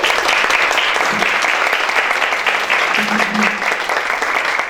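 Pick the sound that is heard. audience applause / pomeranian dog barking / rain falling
audience applause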